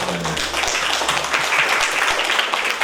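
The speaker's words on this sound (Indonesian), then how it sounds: "Tepuk tangan dong." An audience claps steadily in a hall during a visit by provincial legislators to an Islamic college in Sula, North Maluku, with a thick, continuous wash of hands filling the room.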